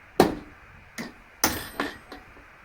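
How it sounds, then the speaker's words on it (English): A hammer strikes metal five times in an uneven rhythm. The blows are sharp, close and ringing, with short pauses between them and no voices. "Just with that sort of hammer."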